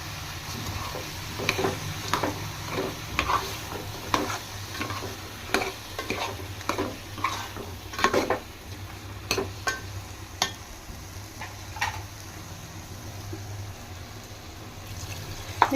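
Okra fries in a pan with tamarind added for an egg stew, a low sizzle under frequent, irregular scraping strokes of a stirring spoon, close and moderately loud, with no talking.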